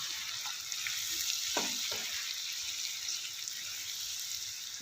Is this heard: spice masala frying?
yes